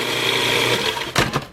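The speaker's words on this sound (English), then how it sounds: "Now, we are going to puree 15 Oreos." A food processor purees 15 Oreo cookies in pulses, giving a steady close whirring drone that breaks into a couple of short, choppy bursts near the end.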